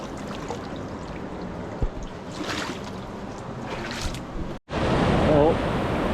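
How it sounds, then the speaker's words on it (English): Steady rushing of a river waterfall in the remote Kimberley region, heard as continuous broadband water noise that swells louder and closer near the end after a brief break. "There's the falls over there."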